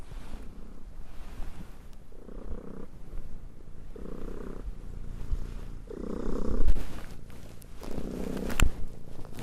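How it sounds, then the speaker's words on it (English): A cat purring steadily up close, with a low rumbling rhythm that swells and fades in regular breaths, with no voices. "looks like I have to pet a cat for a while"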